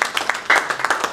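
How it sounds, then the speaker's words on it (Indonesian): Church congregation clapping and cheering in bursts after a call to praise, with dense applause rising sharply midway and continuing close and loud. "Berikan sorak-sorai buat Tuhan"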